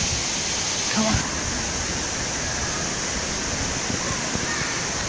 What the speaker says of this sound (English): here comes the big wave.